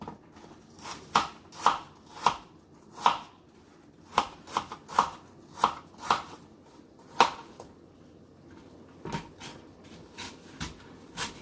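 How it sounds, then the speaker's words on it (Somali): A knife chops a hard apple into small pieces on a board: a dozen or so crisp, evenly spaced cuts land close and clear, pause briefly, then a few more chops follow. "xoogaa waxaa moodaa tufaaxu ugu adag yahay inaad saas u jarjartid"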